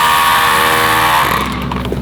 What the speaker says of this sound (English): this new Roto Martillo rotary hammer is very helpful and it's so useful